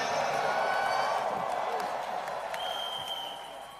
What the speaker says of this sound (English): Clap your hands, O ye people